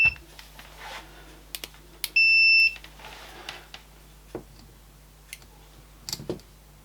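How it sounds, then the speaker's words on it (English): A multimeter gives one short, clear continuity-test beep while a blown fuse in an old 18650 battery pack is being checked, surrounded by faint clicks and taps of probes, with no talking. "Continuity test."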